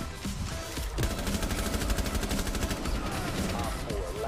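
Rapid automatic gunfire in the Rainbow Six Siege video game, a dense burst of shots rattling continuously for several seconds after a brief opening, loud and close in the mix.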